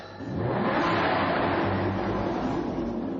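A powerful supercar engine revs loudly and holds a sustained, growling roar, close by and steady for a few seconds.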